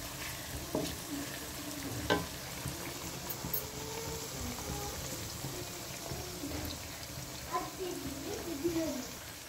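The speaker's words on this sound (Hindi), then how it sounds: "अलहमदिल्ला से हमारे प्याज फ्राई हो रहे हैं" Onions frying in a pan for a tangy spiced potato curry give a steady close sizzle with scattered stirring clicks, running under a voice talking throughout.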